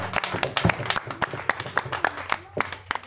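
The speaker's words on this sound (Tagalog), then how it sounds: "Atong tagaan sa kapuso nga palakpak atong puwi nga Dios." Church congregation clapping in praise to God, a loose ragged burst of applause from many hands with uneven sharp claps, moderately close, voices mixed in.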